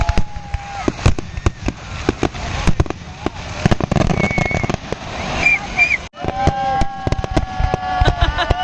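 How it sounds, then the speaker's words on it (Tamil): Independence Day fireworks going off outdoors, with a run of sharp loud cracks and pops, then whistling rockets rising and bursting, close by and steady across the stretch. "நான் வந்து எண்டில் வந்து அந்த ஃபயர் ஒர்க்ஸ் வந்து காட்டுறேன்."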